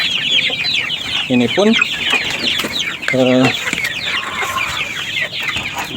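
Merawang kampung chickens in a roomy pen cluck steadily, with two louder, harsher squawking calls standing out nearby, while a person speaks briefly over the flock.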